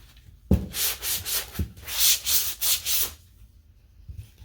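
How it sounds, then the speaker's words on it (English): Sanding paint off thrift-flipped furniture and decorative transfers, a steady rasping rub in several close, loud strokes with short pauses between them, fading to quiet at the end. "go ahead and sand a little more freely on this one"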